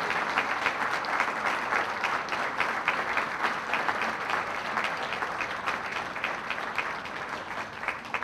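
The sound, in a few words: applause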